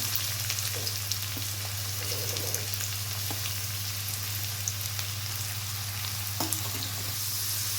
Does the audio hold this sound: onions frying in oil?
yes